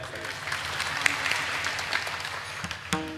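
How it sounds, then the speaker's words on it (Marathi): A crowd at a Warkari kirtan during an Akhand Harinam Saptah in Khedgaon claps together in sustained applause that tapers into a few scattered claps at the end. "एकदा गुरुजीं करता टाळी वाजूया"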